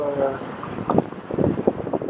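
On a sailboat cruise in a moderate sea with a steady breeze, wind buffets the microphone over rushing, choppy water, loud and continuous with gusty swells.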